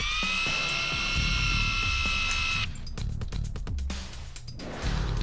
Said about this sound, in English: put the drill in reverse and squeeze the trigger until the rivet stem will eject from the